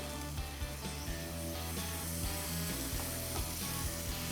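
Beef broth poured into browning onions in a hot skillet sets off a loud, steady sizzle that fills the whole stretch, close and continuous with slight surges and no voices.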